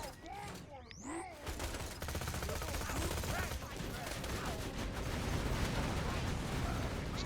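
Automated turrets deployed by Axton, the soldier class in Borderlands 2, fire in a sustained rapid rattle. It builds after a brief quieter stretch with chirpy electronic effects and carries on steadily as a busy mid-distance barrage.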